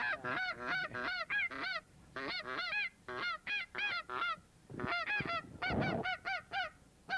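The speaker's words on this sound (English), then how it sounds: "I tell you what, gentlemen, that is a lot of geese." A large flock of geese honks repeatedly at a hunt, the calls coming in dense overlapping bursts with short pauses between, loud and close, with a brief rustling thump near the end.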